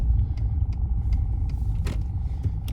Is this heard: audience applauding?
no